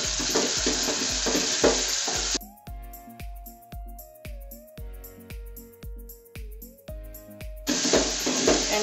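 Garlic and ginger hit a pan of frying onions for spiced goat pilau, a steady hiss of sizzling under rhythmic stirring clatter, interrupted midway by quieter tapping and a sustained tone before the frying noise returns.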